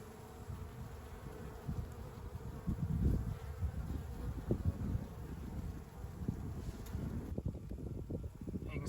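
Honeybees hum and buzz steadily in an open hive as a mated queen is released onto a frame, a dense close drone with some wind rumble and brief handling noises.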